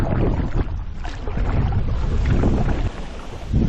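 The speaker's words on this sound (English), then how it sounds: "That's why I'm still paddling, or else I would have pulled over." Paddling a boat on the Hornaday River during a solo Arctic canyon wilderness expedition, with steady rushing water and wind buffeting the microphone throughout and no clear individual paddle strokes standing out.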